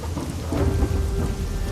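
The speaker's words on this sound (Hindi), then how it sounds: "बादल गरज उठते हैं, बिजली इस तरह कड़कती है मानो पूरा आसमान चीर देना चाहती हो" Thunder and rain as a sound effect in a horror story: a deep, rolling rumble of thunder over steady, dense rainfall, loud and continuous throughout with no voices.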